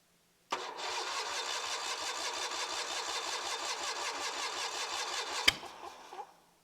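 A 23 HP Kohler engine, run with choke and a little throttle, cranks briefly and then catches, settling into a steady mid-pitched idle with rhythmic thumps before a sharp click near the end and the run winding down.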